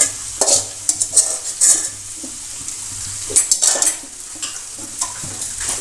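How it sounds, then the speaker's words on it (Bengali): Mashed boiled taro greens get stirred into hilsa fish head in a pan, with close, repeated bursts of spatula scrapes and metal clinks over a low sizzle. "এখন মেরে ফেলে ভালো করে ইলিশ মাছের মাথার সাথে মিশিয়ে নেব।"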